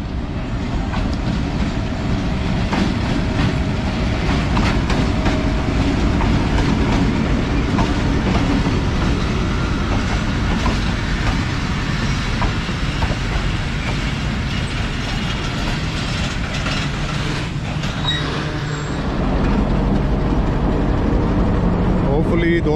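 A passenger train led by locomotive PHA 28301 runs on rails near Shahin Abad Junction, with a loud continuous rumble and rhythmic wheel clatter close by throughout, easing slightly near the end.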